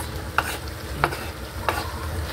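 A spoon stirs octopus adobo with tomato and onion in a pan, three distinct scraping strokes spaced evenly over a soft sizzle.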